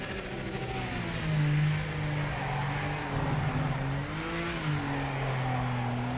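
A GTO-class race car engine in Project Motor Racing drones and revs steadily at close range, with pitch rising and falling through the run at Eau Rouge.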